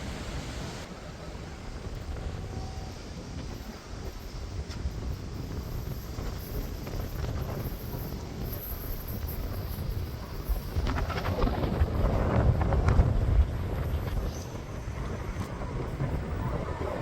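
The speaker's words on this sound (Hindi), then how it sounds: "बहुत अच्छा हवा चल रही थी" Wind blows steadily across the microphone at a small train station on the Tbilisi to Batumi line, a continuous loud roar that swells midway and then settles, with no voices.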